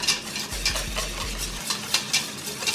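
A utensil scrapes and stirs pastry cream made with flour in a saucepan, rhythmic close-up swishes and clinks against the pan over a faint low hum.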